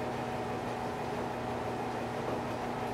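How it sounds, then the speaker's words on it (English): A heater drones steadily in a garage workshop, a constant broadband whoosh with a faint low hum, even and unbroken throughout. "the noise you hear in the background is the heater going"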